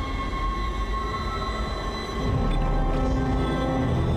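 A train rolls along steadily in the video game Dead Space, giving a loud continuous rumble with a tonal hum that swells a little halfway through.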